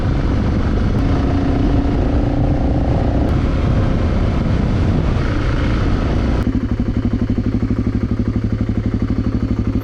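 A motorcycle pulling away along a country road makes a loud, steady engine roar mixed with wind, which drops to a lower, pulsing throb partway through.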